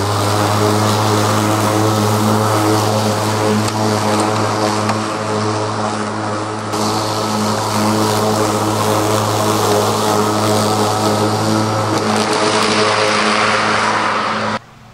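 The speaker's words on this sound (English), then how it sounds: "It sounds substantially quieter than a gas-powered mower." A STIHL RMA 510 V battery-powered lawn mower runs continuously at close range, a steady loud motor whine with a strong tonal hum and a brief shift in the middle before it cuts off at the end.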